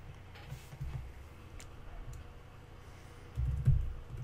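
Someone types on a computer keyboard with soft, uneven key clicks in short bursts, fairly faint and close, with a slightly heavier flurry near the end.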